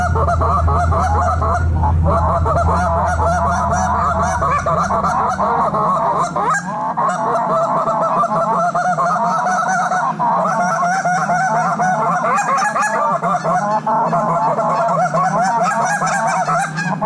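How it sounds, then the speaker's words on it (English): A flock of geese honks continuously and loudly overhead in flight, calls overlapping in a dense, raucous chorus with a low rumble underneath during the first seconds. "Three geese out front."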